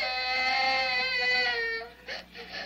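A human voice imitates a crying baby in a long, wavering wail that fades after about two seconds and is followed by a couple of short sobbing bursts.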